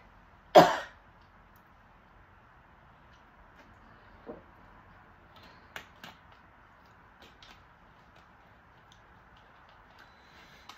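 One sharp, loud cough bursts out close by in a quiet indoor room on Christmas Eve, followed by a few faint clicks and small thumps over a low hum.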